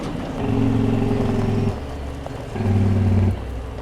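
Jake brake on a Cummins Big Cam logging truck engine in a video game, two loud low rattling engine bursts, each lasting about a second with a short gap between, heard up close without talk.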